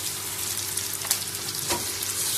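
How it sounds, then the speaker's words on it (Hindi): Onions fry and brown in a pan with a dense, steady close-up sizzle. Faint stirring scrapes come through now and then, and no voices are heard. "ये प्याज देखिए जरा हल्के हल्के ब्राउन हुए"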